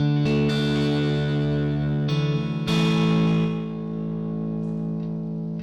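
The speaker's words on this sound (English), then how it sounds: "Let's put the gain up to maximum on the distortion algorithm." A guitar runs through an OTO Bim delay pedal with distortion at maximum gain, giving sustained, saturated notes that are struck again and again, with echoing repeats that slowly fade out.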